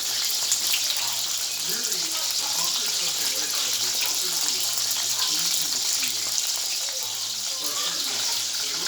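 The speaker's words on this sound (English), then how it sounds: "Listen to that sizzle." Small fries crackle and hiss continuously in hot oil, a dense, steady sizzle heard close by, with faint voices underneath.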